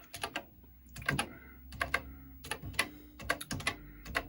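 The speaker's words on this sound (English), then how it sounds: "My typing is not good in the dark." Quick bursts of typing on a Commodore PET computer keyboard, close by, coming in uneven clusters of keystrokes with brief pauses between them, no voices.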